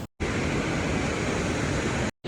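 Ocean waves break and wash on a beach in Goa, a dense, loud, continuous roar of surf heard up close, cut off abruptly at start and end.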